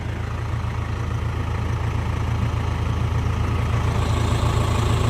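The engine of a double drum road roller runs steadily during road works, with a loud, continuous low rumble throughout and no voices.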